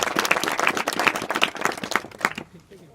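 An audience at an inter-college gathering breaks into applause, brisk uneven clapping that swells and then thins out toward the end, with some voices mixed in beneath it.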